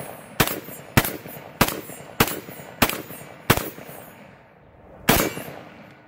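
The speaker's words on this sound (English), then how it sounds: "All right, let's shoot the 10 rounder." A Panzer Arms BP-12 12 gauge shotgun fires from a 10-round magazine outdoors: six sharp, loud blasts at steady intervals of about half a second, then a pause and one more shot, each ringing briefly.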